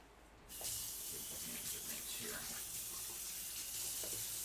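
Tap water runs steadily into a kitchen sink as a cutting board is rinsed after chopping orange peppers, starting abruptly after half a second and continuing as a constant broadband hiss with faint clatter.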